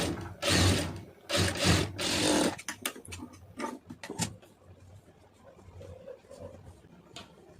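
Sewing machine stitching a fabric seam, bursts of loud mechanical whirring and rattling in short runs, then lighter clicks and handling noises as the stitching stops.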